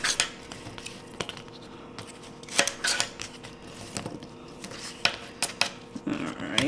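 Knife cutting the ends off asparagus on a board, a close series of sharp irregular clicks and taps with clattering kitchen handling between them.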